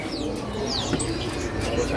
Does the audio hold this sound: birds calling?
yes